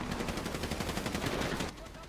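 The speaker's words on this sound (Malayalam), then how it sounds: "ഇവരെന്താ ഇങ്ങനെ വെടിവെച്ചോണ്ടിരിക്കുന്ന?" Rapid automatic gunfire in a multiplayer shooter video game, loud continuous bursts of closely spaced shots rattling for almost two seconds before cutting off abruptly.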